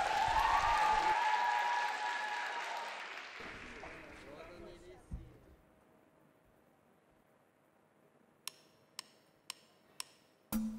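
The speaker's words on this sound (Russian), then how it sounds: "Под ваши аплодисменты Александр Казьмин и несравненная Юлия Дякина." Applause from a festival audience at a musical show, loud and dense at first and then fading away, followed by a few sharp isolated knocks.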